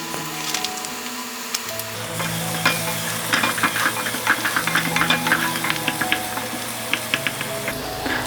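Minced garlic sizzling and frying in a hot pan as the base for homemade BBQ sauce, a steady close crackle with light stirring scrapes throughout.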